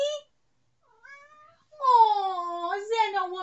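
A cat meows once, then again softly after a pause, followed by a longer, drawn-out and louder meow that rises and falls, close by with no other sound.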